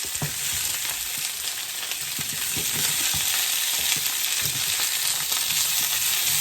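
Asparagus frying in a pan, a loud steady sizzle and crackle that stays dense and even throughout, close up, with small scattered pops and no voices.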